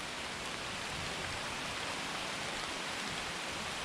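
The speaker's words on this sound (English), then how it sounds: "it's raining today" Steady rain hisses evenly throughout during a crappie fishing trip, a dense wash of drops with no voices or other sounds.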